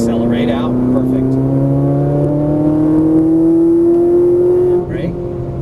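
A Ferrari 458 Italia on a racetrack accelerates out of a turn, its engine note climbing steadily in a strong, close, continuous drone that drops off abruptly near the end.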